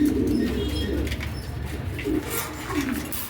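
Pigeons coo in low, repeated rolling calls close by, the soft throaty phrases recurring over a steady background murmur.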